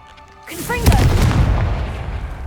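Confringo fire-bolt spell cast in Hogwarts Legacy: a swishing rise followed by a loud booming blast around one second in, with a rumbling tail that slowly fades.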